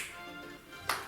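A single sharp hand clap in a seniors exercise class, a brief crisp snap near the end of an otherwise quiet room.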